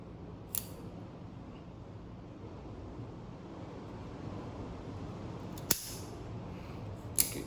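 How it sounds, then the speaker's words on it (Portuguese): A cutter snips the cap of a Cuban Diplomáticos No. 2 cigar, with three short, sharp clicks spaced apart against a quiet, breezy background. "Então vamos cortar o charuto."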